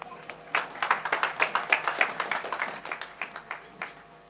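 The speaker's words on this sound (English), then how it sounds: "Let's put our hands together." Scattered, fairly quiet clapping from a small group at an India Fest inauguration ceremony in Townsville, individual claps distinct and loosely rhythmic before tapering off.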